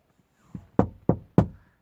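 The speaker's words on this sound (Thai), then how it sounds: "จู่ๆ เธอก็เหมือนได้ยินเสียงคนเคาะหน้าต่างครับ" Four hollow knocks on a window, a horror-story sound effect, the first soft and the next three sharp and evenly spaced, close and isolated against silence.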